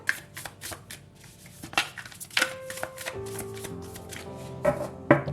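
Tarot cards are shuffled by hand in quick, crisp riffling bursts and light flicks, close and clear, with soft taps and pauses between the runs.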